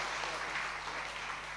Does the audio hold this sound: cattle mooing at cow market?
no